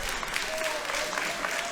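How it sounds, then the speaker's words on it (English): A wrestling crowd at a Defiant Loaded main event cheers and applauds in a steady, dense roar that fills the arena, with a commentator's voice faintly underneath. "Listen to this crowd."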